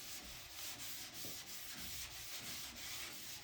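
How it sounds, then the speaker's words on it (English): Hand sanding with 320 grit sandpaper during auto body blocking, a steady close-up scratchy rub that repeats in quick back-and-forth strokes for several seconds with no talking. "don't just sand right there, because again, you'll make a dip"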